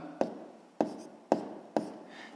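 Pen strokes on paper tap out four evenly spaced marks, each with a crisp onset and a short scratchy tail. The writing is close and quiet, with no voices.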